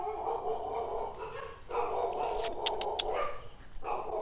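Several dogs bark in short bursts near a residence behind Bulabog Beach in Boracay in the early morning, the yaps rising over a steady background hum of wind and surf.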